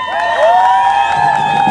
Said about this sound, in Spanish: Vamos a brindarle un aplauso a la número uno.